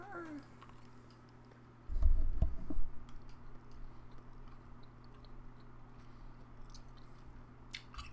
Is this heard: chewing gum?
yes